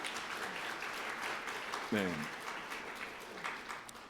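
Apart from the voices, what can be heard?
congregation applauding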